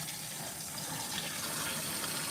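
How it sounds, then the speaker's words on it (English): Hot water gushes steadily into an LG ThinQ MEGA Ultimate washer running a steam self-clean cycle, a continuous close rushing fill with no talk. "it's on steam, so I'm going to put in that steamy hot water too"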